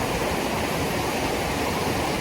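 The Ali River at a campsite in Kerling, its water slightly murky after rain, rushes with a steady, full, constant roar, close and unbroken, without any voices.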